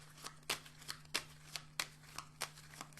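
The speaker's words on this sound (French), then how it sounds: "Je vais tirer une petite carte dessus." Cards from an oracle deck being shuffled, a quick series of crisp riffling snaps in an irregular rhythm, close and soft over a faint steady hum, with no talking.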